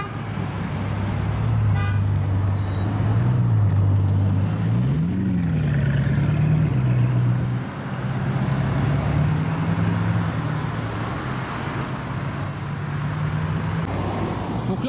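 A Bugatti 110 Ans test car drones along with a sustained engine tone that rises and falls as it approaches and passes, over a steady roadway background at moderate distance.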